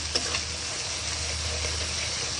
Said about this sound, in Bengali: এখন মশলাটা তেল ছাড়া অবধি আমি হচ্ছে একটু কষিয়ে নেব ভালোভাবে।